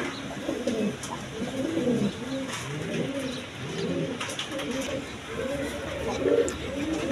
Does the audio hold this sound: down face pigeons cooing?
yes